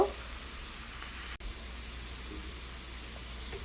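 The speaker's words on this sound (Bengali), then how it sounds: "পেঁয়াজটাকে একটু নাড়াচাড়া করে দেব। 1 মিনিট ভেজে দিয়ে দেব" Chopped onions frying in hot oil while being stirred, a steady broadband sizzle running throughout with one brief dropout midway, close and fairly loud, no talking.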